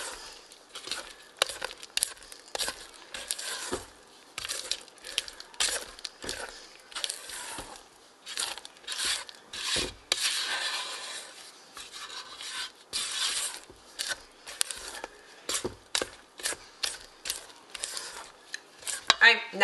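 A spatula gently folds about a pint of fresh blueberries into muffin batter, giving soft, irregular scraping and squelching strokes against the bowl, quiet and close, with pauses between passes.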